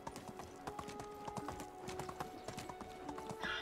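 Donkey hooves clop along in the medieval survival game Medieval Dynasty, a steady quick rhythm of close, crisp hoofbeats on the ground over faint ambient background, with no talking.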